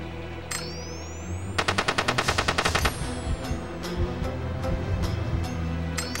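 Rapid automatic gunfire in the tactical shooter SOCOM: U.S. Navy SEALs Combined Assault, a tight burst of evenly spaced loud shots followed by scattered single rounds over a steady background hum.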